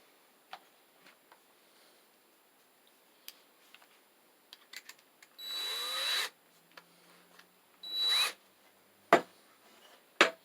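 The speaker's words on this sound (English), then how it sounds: "If you have a power drill, then by all means, make your life easier and use that." A power drill driving screws whirs in two short bursts, a few seconds apart, between scattered clicks and light taps of handling in an otherwise quiet room.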